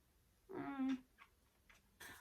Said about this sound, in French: Oui, Pierre, il y a mon petit chaton à côté.